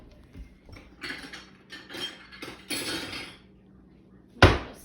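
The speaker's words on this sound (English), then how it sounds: "I'm gonna grab a small bowl, maybe a smaller bowl" Someone grabs a small kitchen bowl among other dishes, producing a string of light clinks and clatters with a sharp, louder knock near the end. No one speaks.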